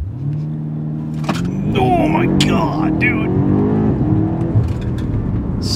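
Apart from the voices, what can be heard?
BMW M5 CS launch control acceleration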